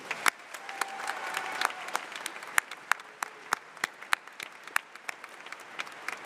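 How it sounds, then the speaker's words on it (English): A commencement audience at a college graduation ceremony claps for special guests, a fairly quiet, distant field of applause punctuated by sharp individual claps close by, holding steady throughout. "Please join me in applauding these special guests."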